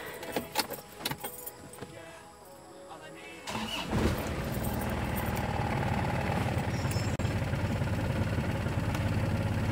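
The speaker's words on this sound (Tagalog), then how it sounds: "So start ko si engine natin guys." An Isuzu Crosswind with a cold engine and faulty idle knob: a few clicks and key rattles, then the engine cranks and catches, settling into a steady low idle that runs close and continuous to the end.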